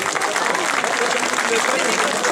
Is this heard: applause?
yes